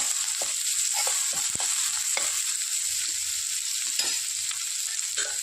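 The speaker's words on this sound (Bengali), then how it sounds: "একটু হালকা ভুনে নিতে হবে।" Grated ginger and garlic with reddened onion frying in a pan for pav bhaji, a steady bright sizzle with a few soft stirring scrapes, close and continuous with no talking.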